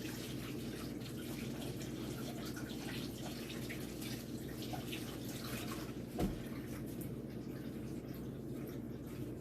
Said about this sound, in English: Hold on, I need to wash my hands